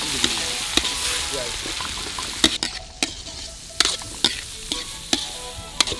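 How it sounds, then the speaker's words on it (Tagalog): Goat innards sizzle as they are sautéed with butter, garlic and onion in a large wok, with repeated sharp clanks of a utensil stirring and scraping, close and steady, with a few louder metallic hits. "Sa isang malaking kawa ay naglagay ng butter, bawang, sibuyas at igigisa."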